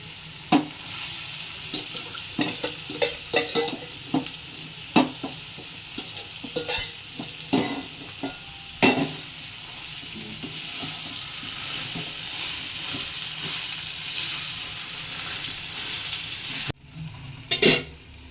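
Fish curry bubbles and fries in a pan under a steady close sizzle, with irregular spoon scrapes and knocks against the pan, a brief drop in the sizzle near the end, and no speech.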